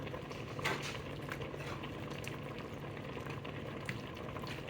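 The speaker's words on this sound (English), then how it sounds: "put your broccoli into your sauce and just stir that back in there" Broccoli being stirred into a simmering sauce for shrimp linguine, with a steady bubbling hiss and occasional soft spoon clinks against the pot, close and continuous.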